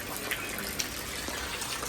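Rain falling steadily in a village, a soft continuous wash of water with a few brief drips standing out, fairly quiet and with no voices.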